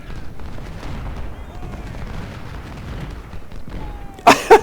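Musket fire from Civil War infantry ranks in the Ultimate General: Civil War strategy game, set at Chickamauga, crackles faintly in the distance before two sharp, loud volleys burst out near the end.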